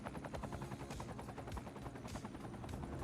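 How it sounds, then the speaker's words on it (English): Medical helicopter in a city-building video game, a steady rapid rotor chop filling the scene continuously at moderate level with no talk. "We got a medical helicopter."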